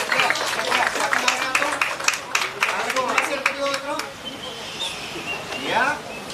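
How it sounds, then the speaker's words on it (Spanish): Scattered clapping from a crowd at a carnival handover ceremony breaks out under a loud voice on a microphone, then fades as the talking carries on. "Un fuerte aplauso un vez más."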